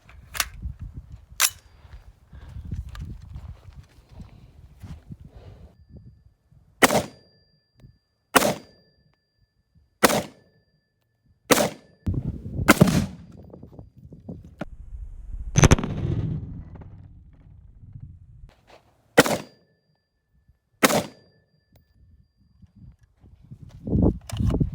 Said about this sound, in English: we'll see how much of a kick or how little this little gun wants to put out